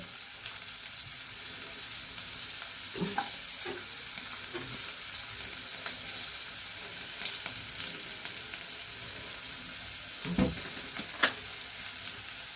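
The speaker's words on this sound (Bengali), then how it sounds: "এবারে আমি একে একে এতে খানিকটা পেঁয়াজ কুচি দিয়ে দেব।" Chopped onion frying in melted butter, a steady broadband sizzle running throughout with occasional soft stirring knocks and scrapes, no talk.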